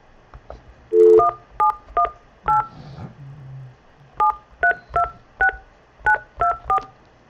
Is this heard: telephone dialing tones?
yes